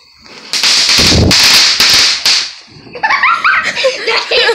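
A Fourth of July firework goes off nearby in loud crackling, popping bursts that fade, followed by voices and laughter.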